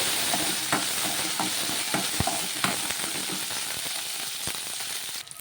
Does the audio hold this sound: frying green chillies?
yes